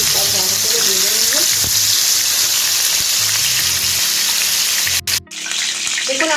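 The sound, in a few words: chicken leg pieces frying in oil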